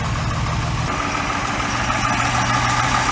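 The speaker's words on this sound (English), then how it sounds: "All right, we got her fired up. She's idling." Close, steady low rumble from a 4.3 OMC Cobra engine idling in a 1990 Four Winns 180 Horizon boat, an even throb with no voices over it.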